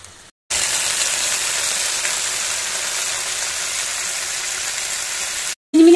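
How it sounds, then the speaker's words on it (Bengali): Chicken sizzles and fries steadily in a pan over a low-medium gas flame, a loud continuous crackling hiss that cuts off briefly near the start and again near the end. "মিডিয়াম টু লো এর মাঝখানে রেখে 3-4 মিনিট একটু ভালো করে ফ্রাই করে নেব"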